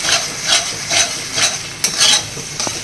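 A soaked spice paste frying in a pan while being stirred, with rhythmic scraping strokes about twice a second over a steady close sizzle.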